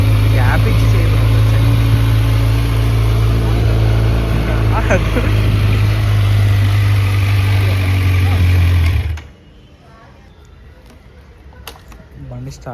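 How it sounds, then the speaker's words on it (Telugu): A motorcycle engine idles after a cold start, a loud steady low rumble with a constant hum that cuts off abruptly near the end, leaving quiet background noise. "సో బండి కోల్డ్ స్టార్ట్ చేసేద్దాం."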